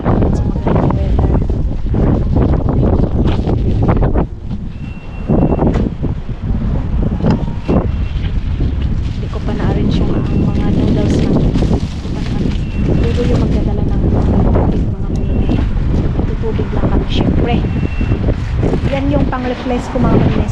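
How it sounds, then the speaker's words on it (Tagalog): Steady, loud wind buffets the microphone throughout with a constant low roar, while people talk over it. "Ay, ang sarap ng hangin. Ang sarap ng hangin"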